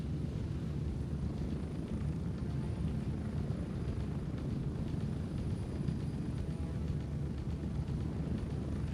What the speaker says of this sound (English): The helicopter's so loud without it.